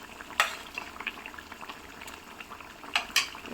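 Garlic pickle cooks in a pan while a tamarind wood spatula stirs it, giving soft frying bubbles broken by a handful of sharp scrapes and knocks at uneven intervals, close by and with no talking.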